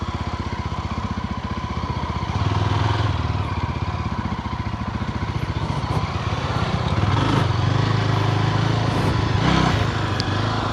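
A motorcycle fitted with road tyres rides along a muddy road in hilly countryside. Its engine thumps steadily at a moderate distance, with light clatter and a couple of slight rises in engine pitch.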